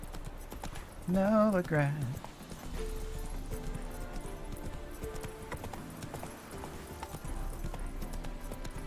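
Rhythmic clip-clop of the horse Roach trotting on a road in The Witcher 3, steady and moderately loud beneath a spoken voice, with a brief loud whinny near the start and game music in the background.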